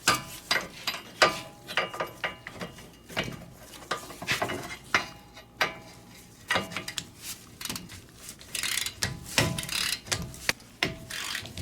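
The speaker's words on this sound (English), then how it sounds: "I'm using my torque wrench here." A torque wrench tightens the front strut bolts on a Toyota Sienna to 155 foot-pounds, giving close, repeated ratcheting clicks in quick bursts with short pauses between strokes and no talk over them.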